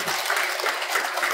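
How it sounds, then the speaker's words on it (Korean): Members at a family clan roots-education gathering give a big round of applause, a brief dense burst of many hands clapping steadily without a break. "큰 박수 한번 보내세요"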